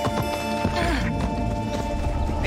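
Horse hooves clip-clop steadily alongside a whinny in an Assassin's Creed Odyssey game scene, with constant game sound and music dense throughout.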